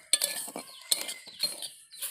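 Semolina lightly roasted in a pan and stirred with a spoon, giving repeated scraping and clinking strokes against the metal at an uneven rhythm, close and clear with no talk over it.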